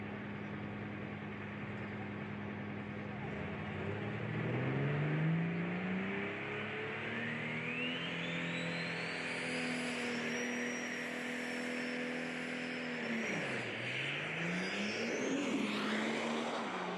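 A Scheid Cummins diesel drag truck launches at a drag strip, engine pitch climbing hard then sagging and bogging down before a turbo-like whine sweeps up, loud and close with no talk.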